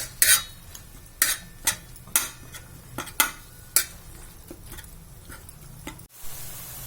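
Pav bhaji vegetables cooking in butter in a pan, stirred with a utensil that gives a series of sharp scraping clinks over a soft, low sizzle, close, ending in a brief pause.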